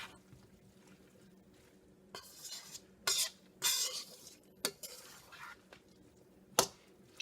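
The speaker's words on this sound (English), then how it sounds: "I just place them right into my hot fried cabbage here" Big wedges of Roma tomato dropped into a hot pan of fried cabbage, with quiet sizzling broken by several sharp clinks and scrapes of a utensil against the pan.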